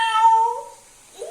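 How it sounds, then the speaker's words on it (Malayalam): A domestic cat gives one drawn-out meow up close, followed after a short pause by a brief second mew, with no other sounds around it. "പൂച്ച"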